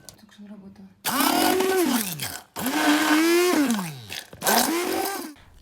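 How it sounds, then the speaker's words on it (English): Kitchen blender whirs in three loud bursts, each spinning up and winding down, mashing boiled spinach, with short quiet gaps between pulses. "Use a blender and mash the spinach."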